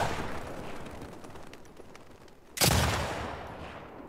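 A single sharp, loud gunshot in The Last of Us Part II cracks out over a steady background hum and decays quickly, with no talk.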